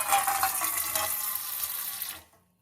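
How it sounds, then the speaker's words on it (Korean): Water gushes steadily from a pot filler faucet mounted above a kitchen stove, a bright continuous splashing stream that cuts off and fades to silence near the end. "천천히 열면은 물이 나옵니다"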